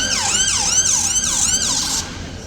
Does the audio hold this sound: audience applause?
no